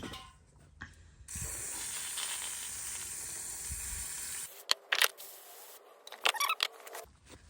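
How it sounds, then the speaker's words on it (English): A long, steady hiss of aerosol brake cleaner sprays onto car brake parts for a few seconds, then stops, followed by a few short sharp bursts of spray and clicks. "Give them a spray down with some brake cleaner."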